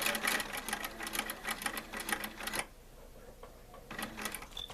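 A sewing machine stitches straight across a fabric circle for a small artisanal basket, a fast rattling run that stops abruptly partway through, a quiet pause, then a brief restart near the end.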